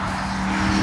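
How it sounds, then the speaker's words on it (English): The Aston Martin DBX's Mercedes-AMG 4-litre twin-turbo V8 produces a steady, loud, deep drone held without pause for just under a second. "The source of the noise is Mercedes-AMG's sensational 4-litre twin-turbo V8"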